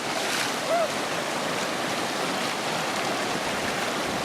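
Muddy floodwater rushes through a ravine that has turned into a river, a loud continuous roar filling the whole clip, with a brief faint voice near the start.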